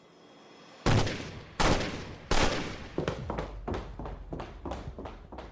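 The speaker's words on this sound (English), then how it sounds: "The sound of gunfire and footsteps rushed all the way up the stairwell" Gunfire in a dramatized story scene: three sharp, loud reports followed by a faster run of quieter shots, each with a short echoing tail, no voices.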